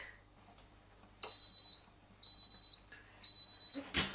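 A kitchen appliance timer gives three sustained electronic beeps, evenly spaced about a second apart, then a brief rustle at the end, after pasta cooks.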